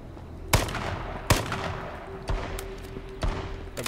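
Gunfire in the battle-royale game H1Z1, a few sharp, separate shots cracking out at irregular intervals over a low continuous hum.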